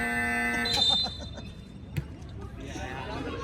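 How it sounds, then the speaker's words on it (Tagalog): A loud harmonic buzzer blares for about a second over crowd noise at an elimination-round game, then the hubbub of voices and chatter carries on. "Buzzer na!"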